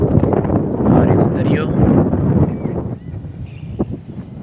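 Cool sea wind blows hard across the microphone on the Somnath shore, a loud rushing gusty roar that eases slightly toward the end.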